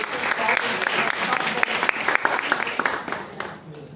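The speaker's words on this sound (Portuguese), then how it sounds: "uma salva de palmas." An audience applauds steadily at a volunteer advocacy training course, with dense, sustained clapping throughout and a voice or two mixed in.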